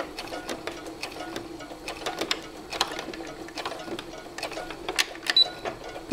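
A sewing machine running a straight stitch along the top edge of fabric, heard as a close, quick series of light mechanical ticks and clacks in an uneven rhythm, moderately quiet with no talking.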